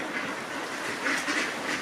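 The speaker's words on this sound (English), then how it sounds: "Dozens of ducks gather in one place" Dozens of ducks gathered on a cold winter river beneath a bridge, their scattered quacks and calls rising over a steady background hiss of water and wind, moderately near.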